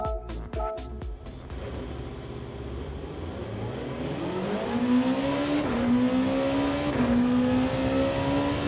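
A Honda NSX race car engine drones in Gran Turismo 7 during online lobby racing. It opens with a few short bursts, then climbs in a steady, loud, rising rev that dips and surges again as the car accelerates.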